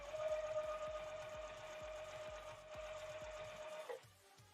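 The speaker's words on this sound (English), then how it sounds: "I feel like I have so much more control over my stitches with this new machine." A new sewing machine stitching at a steady, rapid rhythmic clatter with a constant motor whine, close and fairly quiet, stopping abruptly near the end.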